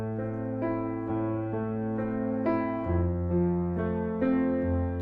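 A piano plays a repeating arpeggio pattern over a chord progression, the broken chords rolling evenly and moving through several chord changes at a steady moderate volume, with no voice.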